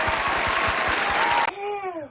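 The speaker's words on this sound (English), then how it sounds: "this is where we'll have applause, like a button. We'll insert it" A canned applause sound effect dropped into a podcast plays as a full crowd clapping, then cuts off abruptly and gives way to a sustained musical tone.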